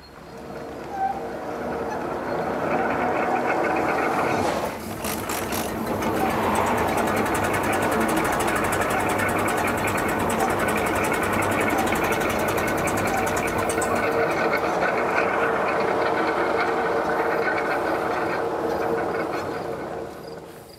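A 1938 Twin City Model KTA tractor engine is cranked over in a continuous, loud mechanical churning that dips briefly partway through, with people talking nearby.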